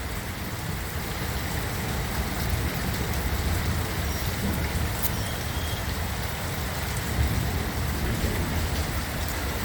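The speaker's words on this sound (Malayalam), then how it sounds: "വീണ്ടും മഴ അതിശക്തമായിട്ട് പെയ്തുകൊണ്ടിരിക്കുകയാണ്" Torrential rain falls during a flood in Ajman, a dense uninterrupted roar of drops on surfaces, loud and constant with no voices.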